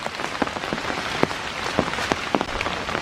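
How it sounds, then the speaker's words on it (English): Rain falls steadily in foggy woods at a park on a November morning, a dense continuous patter with occasional louder drops striking close by, no voices. "It rains hard for a while and then it lets up."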